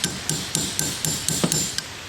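A hammer taps on a Volkswagen rear wiper arm: eight light, evenly spaced metallic knocks in a steady rhythm, close and distinct with no talking.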